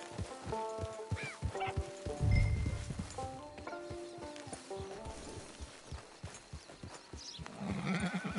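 A horse in the Red Dead Redemption 2 game walks at a camp, its hooves clip-clopping in a steady rhythm, with snorts and light ambient noise and a voice speaking.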